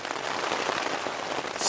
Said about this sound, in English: for the most part, it's just the heavy rain.